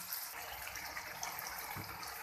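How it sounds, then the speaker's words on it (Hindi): Half a cup of water is poured into spice masala for pulao, a steady faint splashing flow lasting a couple of seconds with no talking. "हम इसके अंदर डाल देंगे पानी हाफ कप"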